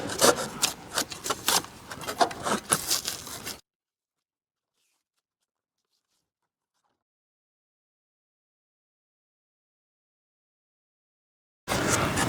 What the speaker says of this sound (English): It's just a cake bread cutting knife. Seems to cut foam pretty good.